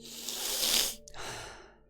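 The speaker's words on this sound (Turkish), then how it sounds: "harbi nefes alışımı da çekiyor" A streamer's breathing caught close on the microphone: a long, breathy exhale that swells and fades, a brief pause, then a second softer breath trailing off.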